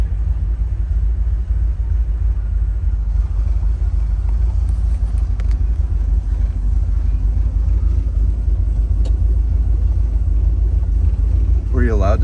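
A 1970 Chevrolet Corvette L46 convertible with a four-speed manual cruises along Fifth Avenue in downtown Naples, its steady low engine rumble and road noise running continuously throughout, with voices talking over it.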